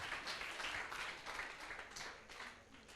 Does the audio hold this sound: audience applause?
yes